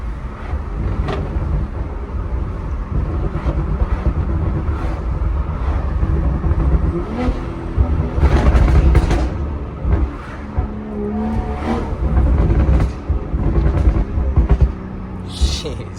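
Stage 2 BMW M340i fitted with a Dinan valved exhaust pulls hard in first gear, its engine note rising and surging in bursts, recorded from inside the car with occasional talk over it.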